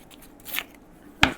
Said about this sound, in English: What I might do is just run my scissors along it, break it up a little bit so it's not quite so straight.